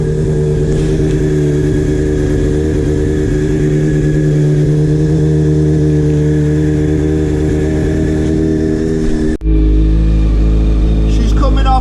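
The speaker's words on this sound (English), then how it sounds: "She's coming off cold start, the RPMs are dropping, and the smoke's cleared up." A Honda CBR600F Sport motorcycle engine idles steadily after a cold start, a loud, close, continuous low drone with a slight shift in tone near the end.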